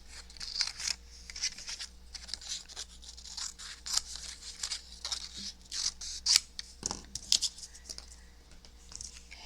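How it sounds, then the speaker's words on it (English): Scissors snip through sheets of designer paper in a run of short, crisp cuts, close and fairly quiet, with soft paper rustling and handling between the snips and no talk. "I'm going to grab some sheets of my designer paper, and I'm going to cut"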